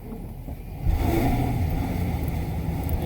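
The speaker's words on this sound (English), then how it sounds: "I'm gonna try to drive the car because we get stuck in some ice." A car engine revs loudly and steadily while the wheels spin, stuck in ice, the drone rising sharply after a brief quieter start and holding for several seconds.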